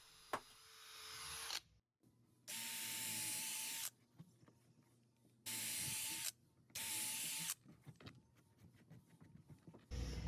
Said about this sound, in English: Here I'm putting in pilot holes, getting ready to accept the butt block onto the old plank.